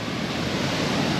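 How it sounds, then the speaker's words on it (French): Constant broadband roar of a waterfall in Vietnam, heard up close as an unbroken rushing wash of water with a slight wind-like texture and no voices. "on va aller s'approcher au plus près de la cascade"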